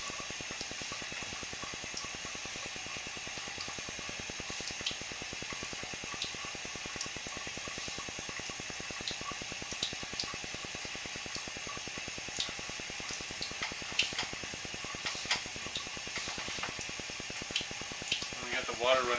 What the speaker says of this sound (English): The water running a little bit more.